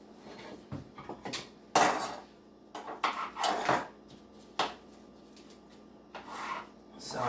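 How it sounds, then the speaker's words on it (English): A knife taps on a cutting board while chopping fresh basil leaves, scattered sharp strikes in irregular bursts under a speaking voice in a home kitchen. "Chop up these wonderful basil leaves."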